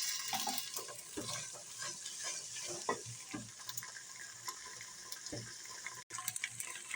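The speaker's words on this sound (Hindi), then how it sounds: "अदरक लहसुन को भी हमने भून लिया है।" Ginger and garlic fry in a pan with a steady sizzle, broken by a few clinks and stirring scrapes, close and without talk.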